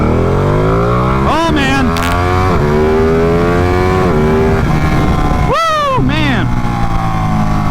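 A Ducati Panigale superbike accelerates hard in race mode, its loud close engine rising in pitch through several upshifts with brief dips between gears, while the rider exclaims over the roar.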